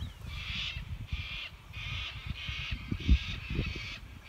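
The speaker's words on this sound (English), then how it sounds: "Those birds are not letting up" Birds call over and over beside a river, six steady hoarse cries at an even pace under a low rumbling background of moving water and wind.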